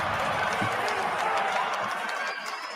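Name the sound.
draft event crowd reacting to the Raptors pick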